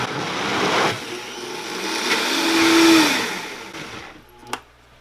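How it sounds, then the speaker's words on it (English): Blender whirring as it purees eggplant lasagna sauce, a loud continuous motor roar that rises and falls over several seconds, then cuts off with a final knock. "Let's blend this up."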